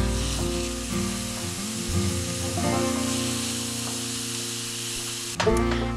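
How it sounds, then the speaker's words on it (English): Thawed, very lean ground beef browning in a pan with onions and garlic for homemade lasagna: a loud, steady close-up sizzle and hiss that runs throughout, with a brief shift near the end as the meat is stirred. "Now we are gonna add 1 pound of thawed ground beef to our mix and brown that up"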